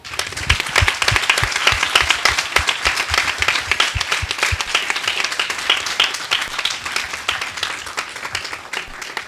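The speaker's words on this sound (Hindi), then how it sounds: "थोड़ा परमेश्वर के लिए ताली बजाओ।" A church congregation claps together in sustained applause for God during a Hindi-language sermon, a dense, steady patter of many hands filling the hall with no talk over it.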